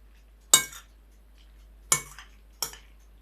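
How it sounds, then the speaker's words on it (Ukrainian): Three sharp metallic clinks of a utensil against a pot while butter is stirred into drained pasta, spaced apart with quiet between them, close and fairly loud. "Перемішую, щоб масло розтало."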